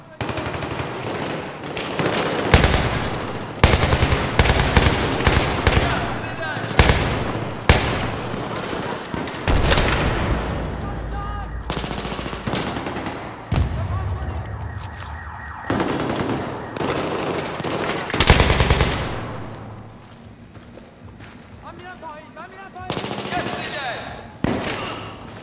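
Battlefield 3 gunfire rattles in repeated automatic bursts, loud and close, with pauses between volleys and a voice talking at times.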